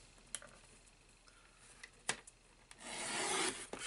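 Paper cardstock being trimmed for a birthday card, faint scattered ticks and rubbing scrapes, then a longer rasping slice of the blade through the card near the end, close and quiet with no talking.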